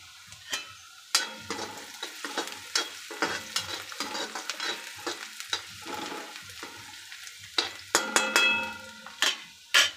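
Sliced onion frying in oil toward golden brown, a crackling sizzle broken by frequent sharp spatula scrapes and knocks against the pan, uneven and close.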